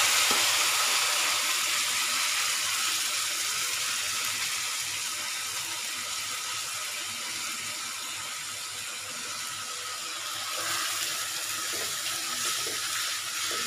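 Chow mein noodles stir-frying in a pan with Maggi masala, sending up a dense, continuous sizzle that stays loud and hissy throughout, swelling slightly near the end with faint stirring.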